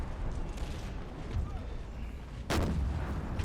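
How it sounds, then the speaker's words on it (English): Cannon fire in the Empire Total War battle game, a sudden loud boom crashing in over a steady rumble of battle noise. "Get out of the way of the cannon."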